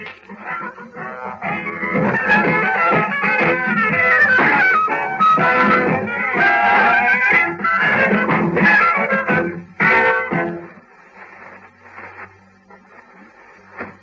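An imagined future version of the Radio Newsreel signature tune, from 1961: a short, busy electronic tune with warbling, synthetic tones. It swells for several seconds, then thins out into quieter fragments at the end.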